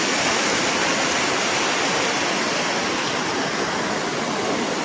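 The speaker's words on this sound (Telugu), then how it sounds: "మనం వాటర్ ఫాల్స్ పైకి వచ్చామన్నమాట" Dumpavalasa waterfall in Maredumilli, heard from the top of the falls: a steady, loud, broadband roar of rushing water with no pauses and no voices.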